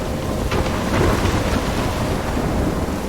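A thunderstorm in the video game Life is Strange: heavy rain hisses steadily while a deep thunder rumble swells and fades beneath it, loud and continuous with no voices.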